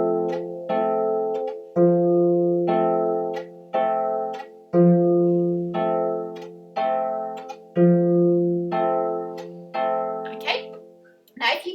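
Left-hand cha cha chord pattern on a keyboard, played at a quicker tempo: repeated sustained chords in a steady, evenly spaced rhythm, fairly loud and close, with no talking.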